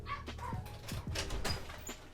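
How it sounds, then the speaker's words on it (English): A dog yips and whimpers in short, excited bursts, somewhat distant and fairly quiet. "My dog's barking like crazy in the background."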